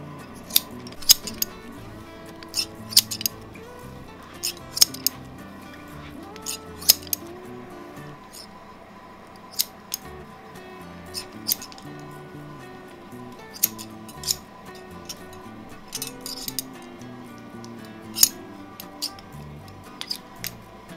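Barber's scissors snipping the very tips of a head of hair, a series of crisp, close metallic clicks scattered irregularly over a quiet background, some in quick pairs, with no talking.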